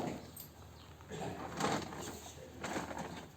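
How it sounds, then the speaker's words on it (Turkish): Pigeons or doves coo in a barn housing cattle, soft low rounded calls rising in a few swells over a faint rustling, roomy background, with a person speaking briefly. "Kuşlar."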